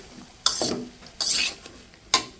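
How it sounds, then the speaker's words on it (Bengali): Masoor dal lentils being stirred in a cooking pot with a utensil, three separate scraping, clinking strokes about a second apart, close and fairly quiet. "ধুয়ে রাখা ডালটা দিয়ে দিচ্ছি। ডালটা দিয়ে এখন নেড়ে ছেড়ে দিচ্ছি।"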